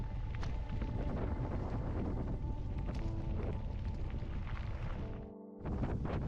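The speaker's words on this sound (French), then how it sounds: "Il nous est impossible d'affronter ce vent de face" Strong headwind buffets the microphone of a mountain biker in a constant roaring rumble, briefly easing near the end before gusting back.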